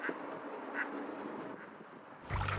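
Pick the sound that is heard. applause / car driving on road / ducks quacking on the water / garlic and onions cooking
ducks quacking on the water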